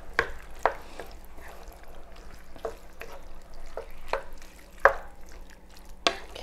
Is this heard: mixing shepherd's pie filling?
yes